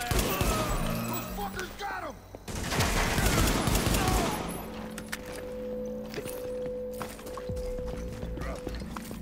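Pistol shots in Tom Clancy's The Division video game, a loud volley of rapid cracks in two bursts amid combat noise, then fading into quieter background with a voice talking.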